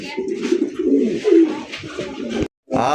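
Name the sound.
pigeon cooing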